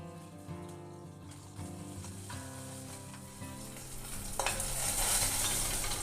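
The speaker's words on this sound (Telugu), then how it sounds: "ఇప్పుడు కొద్దిగా ఆయిల్ వేసుకొని దీంట్లో పచ్చిమిర్చి, ఎండుమిర్చి వేయించుకోవాలి ఆయిల్లో." Green chillies and dried red chillies crackle and sizzle in hot oil, a steady close-up frying hiss with occasional stirring clinks, swelling louder and brighter toward the end.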